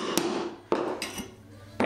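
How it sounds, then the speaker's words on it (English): A small hammer strikes mosaic tiles to break them into pieces, giving three or four sharp, close cracking taps at uneven intervals over a low background hum. "you've got a little hammer"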